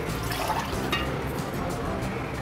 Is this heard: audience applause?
no